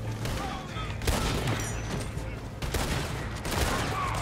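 Gunfire rings out in the Red Dead Redemption video game, sharp shots cracking in irregular bursts over several seconds, with a voice speaking faintly between them.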